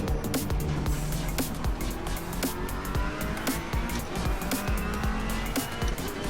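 A racing car engine in the Project Cars 2 video game drones continuously at high revs, with repeated gear shifts and a steady rising and falling whine throughout.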